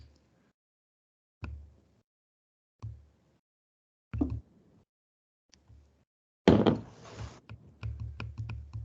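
Keystrokes on a computer keyboard come in scattered single taps, then a denser burst of quick typing near the end, close and clear in a quiet room with no talking.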